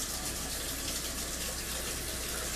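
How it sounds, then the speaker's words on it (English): Cold water gushes steadily from a kitchen sink tap, a continuous close, loud rushing stream with no talking over it. "Get that cold water flowing."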